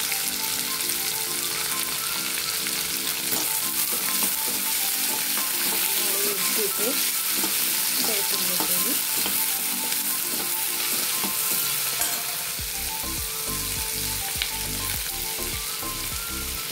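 Onion and mixed vegetables frying in oil in a pot for veg pulao, a loud continuous sizzle with scraping stirs from a spoon along the pan, close and steady throughout.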